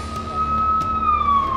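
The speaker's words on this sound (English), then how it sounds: "it's a real relief when I can hear those sirens" A single wailing ambulance siren tone, arriving at a beach emergency, holds steady and then slides slightly downward, loud and close, with a low engine hum underneath.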